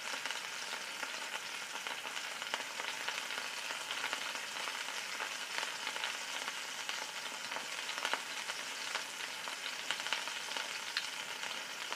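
Scallops fry in a hot pan, giving a steady, even sizzle that holds unbroken throughout at moderate loudness with faint crackles and no voices.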